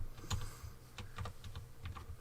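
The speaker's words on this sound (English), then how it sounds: "I'm typing something." Computer keyboard typing in close, irregular bursts of clacking keystrokes, fairly quiet and steady for a couple of seconds with no voices.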